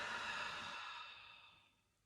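A slow, breathy exhale from a guided breathing exercise is soft and near. It is strongest at the start and fades gradually to quiet over about two seconds, with no speech.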